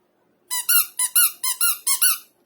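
A squeaky sound-making toy for a newborn baby squeaks eight times in four quick pairs, sharp, close and loud, with no talk over it.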